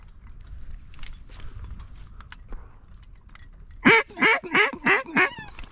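During duck season hunting, ducks quack in a close run of five loud, evenly spaced calls near the end, after a quieter stretch of faint rustling that may include wingbeats.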